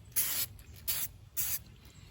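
Filter oil hisses from an aerosol can onto the air filter of a 2006 Ford Ranger in three short, close, evenly spaced spray bursts with quiet gaps between them.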